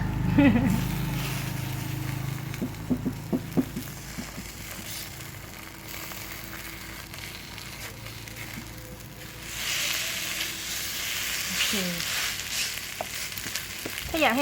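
Mama instant noodles fry in a pan with a steady sizzle, crackling throughout with scraping stirs now and then, louder toward the end, under occasional soft talk.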